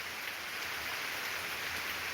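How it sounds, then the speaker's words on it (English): Rain pouring down outdoors, a steady, even hiss of drops on surfaces, soft and constant throughout with no voices. "Maybe I'll just go live with the rain pouring down."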